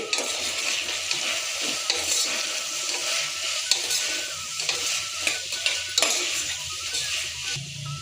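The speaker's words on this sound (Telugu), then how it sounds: "కొంచెం ధనియాల పొడి, కొంచెం పసుపు, ఇవన్నీ బాగా కలుపుకోవాలండి" A spoon stirs vegetables with coriander powder and turmeric in a pan, scraping and clinking over a steady, close sizzle of frying, with no one talking.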